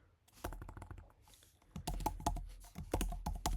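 Computer keyboard typing a command in short bursts of close, crisp key clicks, sparse at first then a denser run of keystrokes, with no voices.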